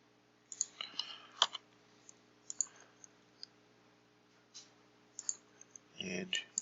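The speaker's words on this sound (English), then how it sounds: "So we'll just click on Save." Soft, sharp computer mouse clicks come in small scattered clusters, close and quiet, with a voice speaking briefly near the end.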